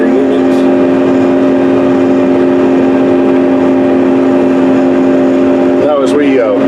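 A Case IH tractor pulling an Early Riser corn planter through a field, a loud steady engine drone with a strong constant hum, heard from the cab as someone talks over it.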